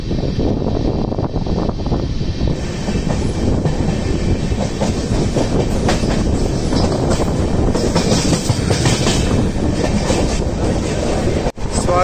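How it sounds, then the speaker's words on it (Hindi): Shri Shakti Express rolling at speed after leaving Ambala Cantt, a loud steady roar of wheels on rail with clickety-clack and wind rush throughout. "10 मिनट का होल्ड लेने के बाद अपनी श्री शक्ति एक्सप्रेस अम्बाला कैंट से चल चुकी है।"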